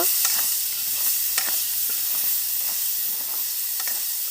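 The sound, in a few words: chopped onion and green chili frying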